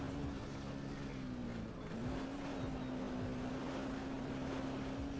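A weak, droning engine from the ghost truck in ATV Offroad Fury 4, a steady low hum that wavers slightly in pitch, continuous and fairly quiet throughout with no talk.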